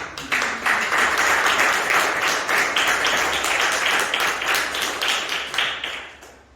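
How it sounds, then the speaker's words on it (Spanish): A church congregation claps enthusiastically during a sermon, with a rhythmic, pulsing quality of many hands, loud and sustained before tapering off at the close. "Denle otro aplauso al Señor."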